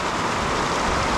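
Steady, dense hiss of heavy rain pouring down without pause, loud and close, with no voices.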